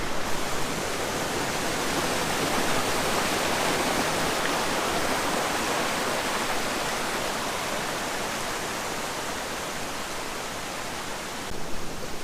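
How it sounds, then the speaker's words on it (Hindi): A waterfall on the Annapurna base camp trek in the Himalayas roars in a dense, unbroken rush of falling water, loud and steady from start to finish with nothing else heard. "शानदार वाटरफॉल का नज़ारा।"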